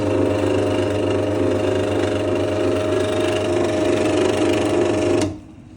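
A used electric meat slicer runs with a steady motor hum and drone, loud and constant for about five seconds, then switches off abruptly, leaving faint room noise.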